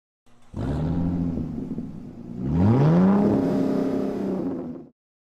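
Tata Curvv with the Hyperion 1.2 petrol GDI engine pulling while driving, a steady engine drone that swells into a rising rev as the car accelerates, then settles before cutting off, heard alone with no talk.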